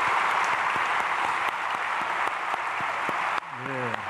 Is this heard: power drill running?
no